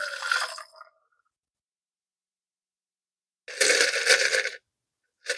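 A cocktail is strained into a glass: a short, splashing, rattling pour comes first, then silence, then a second brief burst of liquid and clinking.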